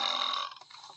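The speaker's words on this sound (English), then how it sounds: "No, it's making me burp." A single short human burp, fairly close and moderately loud, fading out in its last half with no talking.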